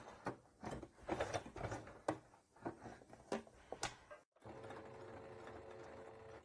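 A sewing machine stitching bias binding and pausing at a corner: short bursts of mechanical whirring and clicking as the fabric is turned, then a steady continuous hum of stitching resuming, fairly quiet and close.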